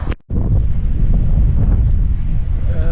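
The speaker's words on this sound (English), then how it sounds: "it's pretty windy" Strong wind buffets the microphone on a beach, a constant loud low roar with a brief dropout near the start, surf faintly mixed in.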